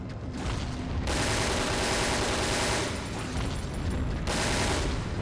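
Sustained automatic gunfire from a machine gun in the video game Resident Evil: Dead Aim, loud and continuous, with bursts running almost without pause and brief dips between volleys.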